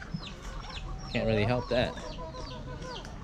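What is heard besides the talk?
chickens clucking near a macadamia nut tree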